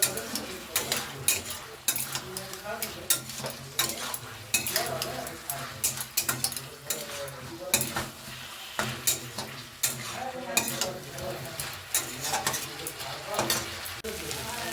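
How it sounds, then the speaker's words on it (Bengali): A fish curry with tomato, potato and drumstick is stirred in a kadai, with a spoon repeatedly scraping and clattering against the pan over a continuous low sizzle of frying. "দিয়ে এবার এটাকে আমি ভালো করে নাড়াচাড়া করতে থাকবো একটুক্ষণ"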